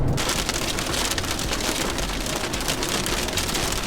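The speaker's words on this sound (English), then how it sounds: "So worst storm I've ever been in" Heavy rain storm drums steadily on a moving car on a wet road with water lying on it, a dense, continuous roar of downpour close by, with no talk.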